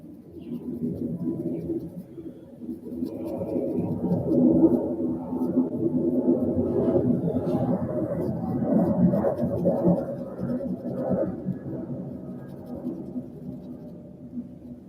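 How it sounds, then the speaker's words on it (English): A cloth rubs and polishes a fountain pen nib with Simichrome polish, a close, continuous soft rubbing and squeaking with uneven strokes, steady and moderately loud. "And then just go ahead and wipe off and polish this nib up."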